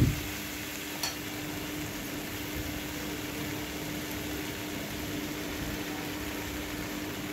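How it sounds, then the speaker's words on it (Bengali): Malabar spinach stems and other vegetables fry in a pan, giving a steady, moderate sizzle with a single scraping knock of stirring near the start and a soft hiss continuing alone. "এরপরে সবজিগুলো ভালো করে নাড়াচাড়া করে মশলাটা অ্যাড করব।"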